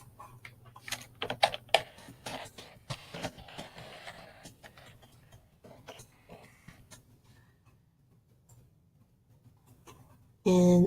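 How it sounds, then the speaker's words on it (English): Computer keyboard keys clatter in quick bursts near the mic as text is typed, trailing off into sparser taps, with a brief louder noise at the very end. "We'll type some text."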